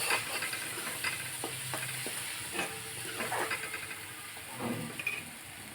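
Masala gravy bubbles and sizzles in oil with a steady soft hiss, broken now and then by light stirring clicks, close but quiet.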